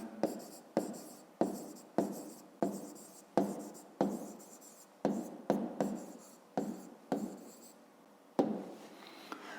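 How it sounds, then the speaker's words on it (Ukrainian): A pen writing out a math answer in a notebook: a run of about a dozen crisp, close scratching strokes in an uneven rhythm, each one starting sharply and trailing off, with no voice. "Пишемо відповідь."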